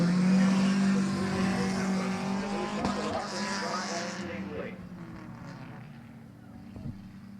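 A figure 8 race car at Midvale Speedway rumbles down to a stop at the start-finish line, its engine loud at first and then fading out, with an announcer talking over it.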